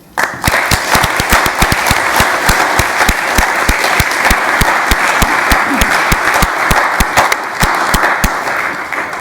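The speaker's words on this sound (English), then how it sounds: "Let's give a round of applause to everybody involved for making this a reality." An audience at a county board meeting applauds for several seconds, thick steady clapping with crisp individual claps standing out near the front, loud and unbroken.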